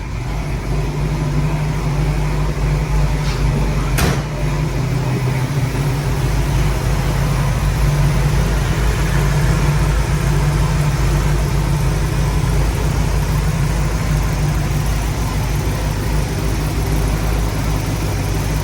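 A 1965 Buick Riviera Gran Sport idles close by, its engine a steady, loud low rumble with a deep throbbing drone that holds evenly throughout, marked by one brief sharp click early on.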